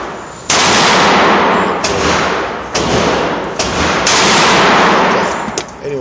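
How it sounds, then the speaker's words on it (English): Pistol and rifle shots ring out at an outdoor shooting range: about six loud, sharp reports at irregular intervals, each trailing into a long echoing decay, with no talking. "I've been shooting at it with my pistol, been shooting at it with my rifle"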